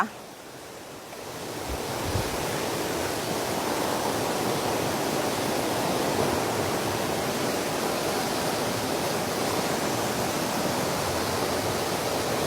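Small, low waterfall on tier 8 of Nam Tok Kao Chan in Suan Phueng, Ratchaburi, gives a steady, dense rush of falling water that holds unbroken throughout, fairly close, with no voices.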